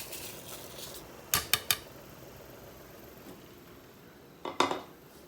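Rice is tipped into a pot of boiling water in brief rattling bursts, three quick clatters, then a pause and another short rush, in an otherwise quiet room.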